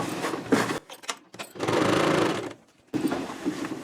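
A sewing machine stitches a blouse in short uneven bursts, with a sustained run of about a second in the middle between choppier starts and stops.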